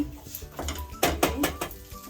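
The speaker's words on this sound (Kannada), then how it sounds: "ಈಗ ಅನ್ನ ಕಲಿಸ್ತೀನಿ." Cooked rice being mixed into vangibath gojju in a metal pot, a few scraping and clinking strokes of a spoon against the pot, close and moderately loud, with no talking.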